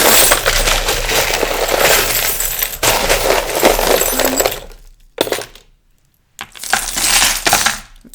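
Small metal charms, some with dice, tumble and clatter in dense bursts of clinking, pausing briefly, then a second shower of jingling rattles close by.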